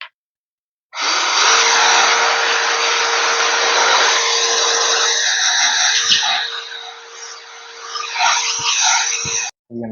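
A vacuum cleaner runs steadily and loud, cleaning dust from the base cover of an Asus TUF gaming laptop. The whine starts abruptly after a short silence and holds for about nine seconds, its tone wavering near the end before cutting off.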